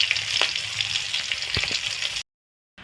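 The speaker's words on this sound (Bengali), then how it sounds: "মাছগুলো কয়েক মিনিট হালকা করে ভেজে নিয়েছি এগুলোকে তুলে নেব আর এইরকমভাবে আরও একটা চাষে সেটা ভেজে নেব" Hilsa fish frying in mustard oil in a kadai gives a steady, close sizzle with a few sharper crackles, running continuously until it cuts abruptly to silence near the end.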